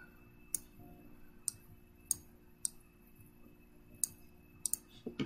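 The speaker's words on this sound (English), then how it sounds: "we'll go and double click on that color here" Computer mouse clicks, a handful of sharp, faint ticks spaced about a second apart, some in quick pairs, with a final cluster at the end over a quiet background.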